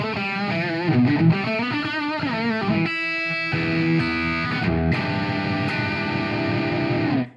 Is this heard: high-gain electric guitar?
yes